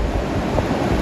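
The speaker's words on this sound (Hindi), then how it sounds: "आप देख सकते हो झरना।" A waterfall beside the mountain trail from Govind Dham to Govind Ghat on the Hemkund Sahib route, roaring in heavy rain as a loud, continuous, close rush of water.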